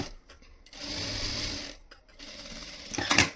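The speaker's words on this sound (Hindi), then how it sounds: "ये देखिए हमने स्टिच कर लिया।" Sewing machine stitching the back seam of a small girl's Nauvari-style blouse, running in steady mechanical bursts with a short pause midway and a brief clatter near the end, close and moderately loud.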